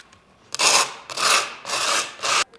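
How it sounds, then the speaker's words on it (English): Scooter deck grip tape edges are sanded in four firm, close rasping strokes, each lasting about half a second and separated by short gaps. "what I literally do is just sand the edges just a little bit"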